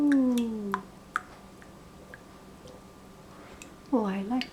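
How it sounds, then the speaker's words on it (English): Water drips in sparse, sharp little plinks, several spaced irregularly, with a voice humming at the start and at the end. "I like the water drop sound."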